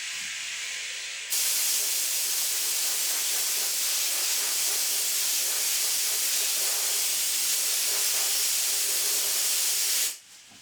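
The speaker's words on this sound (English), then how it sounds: "I'm going to go blow on this with the air compressor to get the alcohol off" An air compressor blows alcohol off a resin 3D-printed part, a steady loud hiss of air that runs for about nine seconds and then cuts off.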